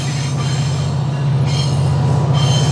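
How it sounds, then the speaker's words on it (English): A train rolls past on railroad tracks, close and loud, with a deep steady rumble and high metallic wheel squeal running through the whole stretch, no voices over it. "Here's another train."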